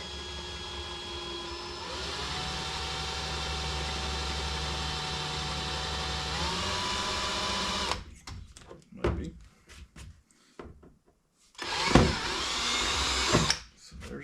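A power drill runs steadily for several seconds while drilling a mounting hole in a Yamaha G1 golf cart body, its motor whine shifting pitch partway through, followed by scattered handling clatter and a short second burst.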